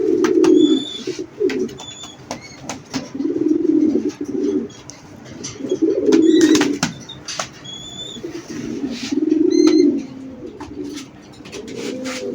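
Racer pigeons and their chicks give repeated throaty coos in rolling bursts, mixed with thin, high chick chirps and the occasional wing flutter, close and fairly loud.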